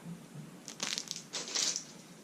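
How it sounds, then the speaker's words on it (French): Short bursts of crinkly rustling as a small plastic package of mini ramen is shaken nearby, two or three quick rattling crackles. "Suivi de ça, avec le bruit que ça fait, je crois que c'est des mini ramen."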